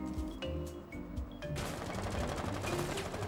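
Gunfire in Rainbow Six Siege: a few separate shots ring out early, then a sustained burst of rapid automatic fire begins at about 1.5 s and continues, fairly faint in the mix.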